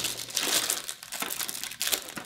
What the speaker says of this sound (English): on the back, you can open the plastic.